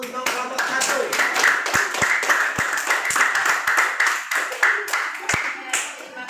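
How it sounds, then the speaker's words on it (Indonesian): A small classroom audience claps steadily for a student presentation group, a dense close patter of handclaps lasting several seconds with voices mixed in. "Kita beri aplaus untuk kelompok 1"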